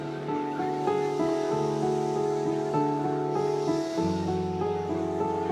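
A voice imitates a wave breaking on shore, a sustained whooshing hiss delivered steadily for several seconds, close and fairly loud.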